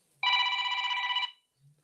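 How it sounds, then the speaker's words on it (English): A phone rings once during a live stream, a steady electronic ringtone of about one second that stands alone in near silence and then cuts off. "my phone's ringing"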